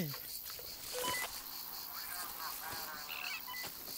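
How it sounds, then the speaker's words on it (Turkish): Many insects and crickets chirping in a floodplain: a steady high chirring layer with scattered shrill calls, heard fairly close under ambient noise, with brief voices nearby. "Ee, böcek. Çok böcek."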